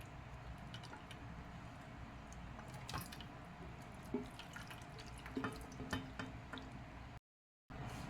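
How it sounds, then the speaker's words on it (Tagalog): Hot water drains off boiled cabbage into a sink, a faint steady trickle broken by scattered drips and small splashes, close by. "Then, drain ko siya rito para mawala yung hot water."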